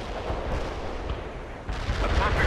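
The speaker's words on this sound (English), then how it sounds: "A perfect artillery hit." Artillery shells strike a target in the strategy game World in Conflict, mission 6 'Into the Mountains': a dense, continuous roar of rumbling blasts and crackling impacts, loud and sustained, with a fresh surge near the end.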